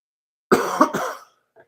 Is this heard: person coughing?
yes